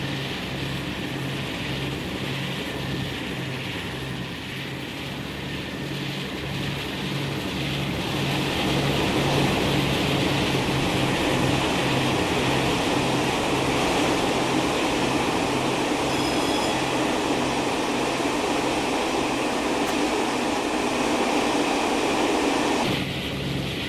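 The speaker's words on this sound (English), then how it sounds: "Listen to the rails again singing." Diesel train in the Train Sim World 6 video game on the Great Western line, a loud continuous rumble of engine and rails with a rising metallic singing from the track, no talk.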